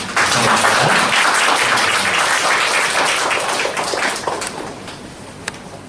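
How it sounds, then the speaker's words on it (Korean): A church congregation gives the choir a round of thankful applause, loud continuous clapping that holds steady and then tapers slightly toward the end. "주신 우리 성가대에게도 감사의 박수를 한번 드리겠습니다."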